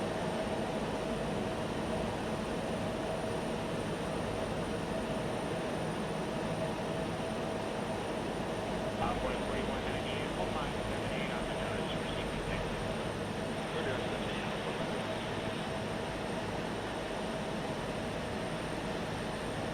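Continuous turbine hum and rotor wash of a simulated Bell 412 helicopter with search-and-rescue sound modifications, an even droning roar throughout with a brief burst of light clicking near the middle.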